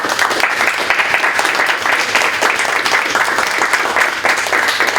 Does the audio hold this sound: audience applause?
yes